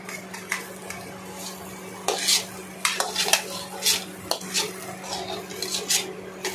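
Chopped onion and chilli fried in oil in a kadai, with a steady low sizzle beneath repeated metallic scrapes and clinks of a spoon stirring against the pan, close and moderately loud.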